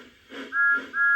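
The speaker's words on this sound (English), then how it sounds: "Thomas has his actual whistle now." Thomas the Tank Engine's whistle plays from a Thomas & Friends DVD: two short, bright whistle blasts in quick succession, loud and close.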